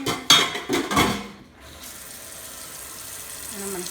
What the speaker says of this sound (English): And I'm going to fill this with water, pretty high